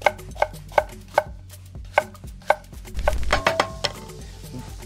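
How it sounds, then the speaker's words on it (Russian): A knife slices a bell pepper into thin strips on a board in a string of crisp, evenly spaced chops, close up, with a faint low rumble partway through. "Удаляем семечки и нарезаем"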